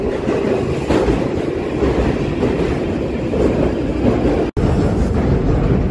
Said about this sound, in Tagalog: Nandito na tayo sa underground sa King's Cross. Yan yan, padating na yung train.